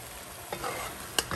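Pork browns in a pot for brown stew pork, sizzling in its own juices under a steady crackle, with a couple of quick stirring scrapes, close-up and without talking.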